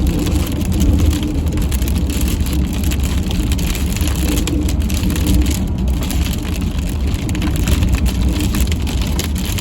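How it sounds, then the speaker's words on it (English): Heavy rain from a supercell thunderstorm near Trenton, a dense, loud, continuous roar of rainfall drumming on surfaces, with a low rumbling undertone throughout. "rain curtains begin to wrap in and shroud my view of the mesocyclone"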